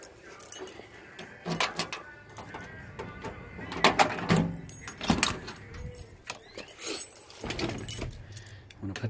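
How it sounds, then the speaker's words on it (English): Car keys jangle and clink in bursts beside a Ford F100 truck on a cold morning, metallic rattles coming in uneven clusters close by, with someone talking between them. "I'm gonna put the key in"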